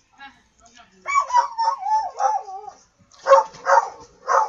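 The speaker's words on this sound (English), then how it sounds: "And that's my oldest dog there, Rink." An older dog named Rink barks and yips several times in short bursts, some whining between them, fairly close, with no other sounds around.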